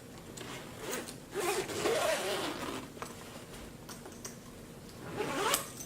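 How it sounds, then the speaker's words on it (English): A zipper run along a business-travel carry-on bag packed with a folded jacket, several rasping pulls of varying length heard close up over quiet room noise, with no talking. "And let's zip this up."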